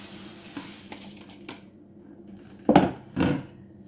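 Sweet lupin, rice and ginger being stirred together in a pan, with a few faint scrapes followed by two louder, close stirring sweeps near the end and no talk.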